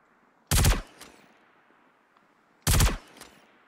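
Assault rifle in the video game Star Citizen set to three-round burst, firing two sharp, loud bursts about two seconds apart, each with a short fading tail.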